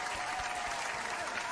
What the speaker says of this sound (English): I hit the round of applause button